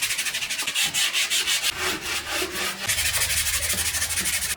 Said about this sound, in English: 120 grit sandpaper, give it a really light sand